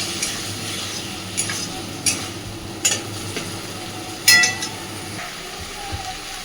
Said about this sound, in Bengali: অল্প অল্প করে জল দেবো আর মশলাটা কষাতে থাকবো